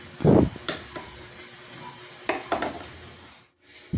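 Knife chopping ingredients for sautéed sardines on a cutting board, a few sharp knocks and clinks of blade and utensils scattered with short pauses between them.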